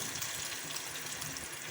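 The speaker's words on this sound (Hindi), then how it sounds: "अब हम इसमें 1 मग पानी ऐड करेंगे" A mug of water poured into a pan of aloo gobi gosht curry, a steady hissing, splashing rush of liquid, fairly faint and continuous with no talk.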